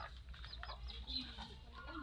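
Faint chicken clucking and murmuring nearby over a low, steady background hum.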